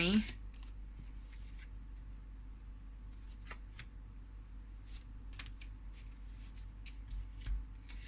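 Tarot cards are shuffled and handled in a quiet room: soft, crisp flicks and riffles come in scattered bursts over a faint steady hum.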